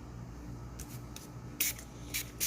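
Short hissing bursts from a spray bottle misted onto melt-and-pour soap poured into a mold, a few brief sprays coming in separate pulses close by against a quiet room.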